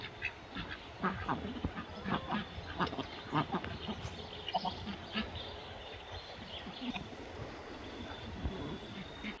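Homestead ducks quack repeatedly in a loose, uneven series of nasal calls, fairly close, over a soft outdoor background hiss.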